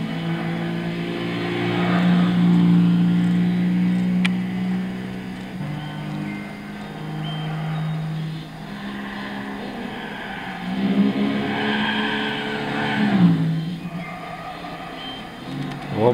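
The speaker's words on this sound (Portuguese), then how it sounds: "Deu uma patinada de pneu." A Nissan Fairlady Z 350Z with a 3.5 V6 in Gran Turismo 6 spins and skids its tires, the engine droning and revving steadily with rising and falling pitch, plus a couple of brief squealing surges.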